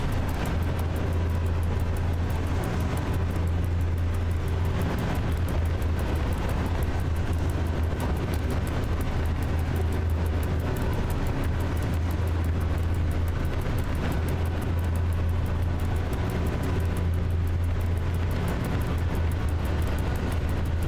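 An EU07 electric locomotive in the SimRail train simulator runs continuously with a loud, steady low hum and broadband rolling rumble that swells and eases periodically, with no talking.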